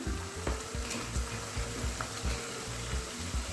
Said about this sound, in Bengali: এ ভালোভাবে মশলাটাকে কষিয়ে নেব